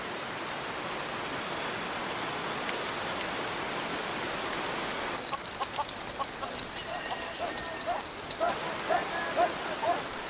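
Tropical downpour in a humid village setting on Kitava, a dense steady hiss of heavy rain close by, with chickens clucking faintly in the background toward the end.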